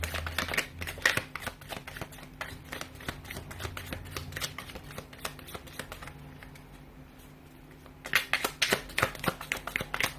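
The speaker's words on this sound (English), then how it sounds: "give the cards a shuffle" Rapid papery riffling and flicking of tarot cards being shuffled close by, pausing briefly before a final burst of shuffling.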